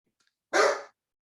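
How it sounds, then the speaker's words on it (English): A single dog bark indoors, one short loud woof after near silence, clear and close. "there's my dog."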